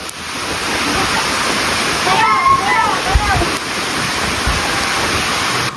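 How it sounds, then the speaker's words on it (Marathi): Steady broadband hiss of falling rain, continuous and fairly loud, with a few brief tonal chirps partway through. "आणि पाऊस पण पडून राहिला"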